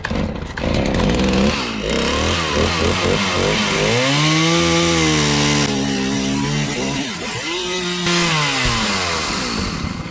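A chainsaw cuts a wooden post to length, the engine revving up and down loudly and close as the chain bites through the wood, with no talking.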